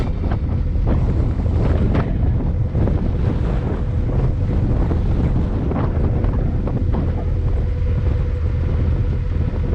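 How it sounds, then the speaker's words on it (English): Gusty wind roars steadily across the microphone aboard a canal narrowboat near Tipton Junction, a loud and constant rumble with no speech. "The wind is really gusty"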